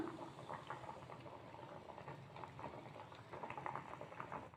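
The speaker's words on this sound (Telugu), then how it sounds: "ఉడికించుకోవాలి పప్పును" Lentils simmer in water with turmeric in a pot, a soft steady bubbling and patter close by, faint and continuous with no voices.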